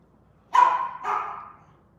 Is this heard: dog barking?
yes